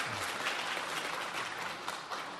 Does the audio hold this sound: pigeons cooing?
no